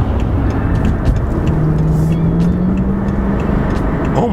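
A BMW 550i sedan's V8 engine hums loudly and steadily from inside the cabin, its tone rising gradually as it picks up speed.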